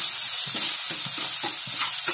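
Green chillies and ginger fry in a little oil, a bright, loud, continuous sizzle with regular low scraping strokes of a spoon stirring the pan.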